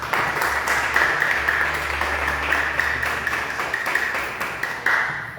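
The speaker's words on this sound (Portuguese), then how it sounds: "Recebemos o servo do Senhor aplaudindo a Jesus" A church congregation claps during an evening service, producing continuous, moderately loud applause with a loosely rhythmic patter of hand taps and no talking over it.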